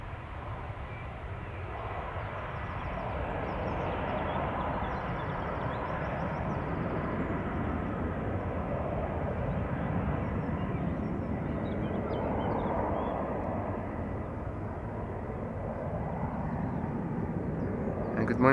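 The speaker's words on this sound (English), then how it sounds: "Embraer 190." A KLM Embraer 190 outbound to Aberdeen at Amsterdam Schiphol gives a steady, continuous jet engine roar with a muffled, dull tone, holding at an even level throughout.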